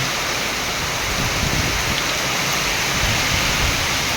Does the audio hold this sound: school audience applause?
no